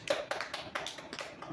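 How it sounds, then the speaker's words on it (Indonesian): Classmates in a classroom clap their hands for a peer, a faint, loose patter of individual claps at an uneven quick rhythm, with nothing else around them. "Kita berikan tepuk tangan untuk teman kita yang udah berani maju"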